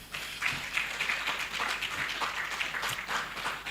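Audience applause at an annual New Year school and conference: a steady, even wash of many hands clapping at moderate distance, continuous throughout without voices.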